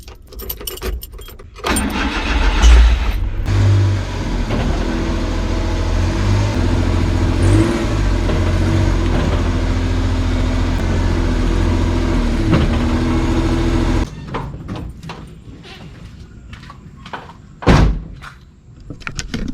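A multicab's engine starts and idles as it reverses, a steady close rumble with door and key sounds near the start, then the engine cuts off, leaving quieter knocks.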